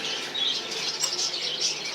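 Pigeon chicks in a cage flap their wings in a steady, close, soft fluttering rustle that runs for about two seconds with no voices.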